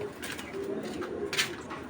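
Hurricane breed pigeons coo softly in a loft, with low, rolling calls close by and a brief sharper chirp near the end.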